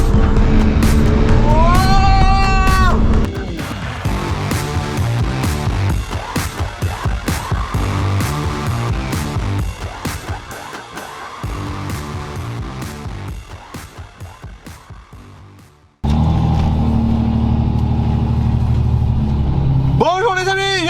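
A 4x4 running at full throttle through a looping, its engine revving high and loud, then roaring on with rattles, thumps and clanks before cutting out abruptly and starting again.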